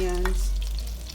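Onions hitting hot sardine oil in a pan give a loud, steady sizzle with a brief stirring clatter near the start, close up and with no talk.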